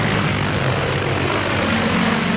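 An A-Grass T25 mosquito-spraying drone taking off outdoors, giving a loud, steady propeller whine and roar close by.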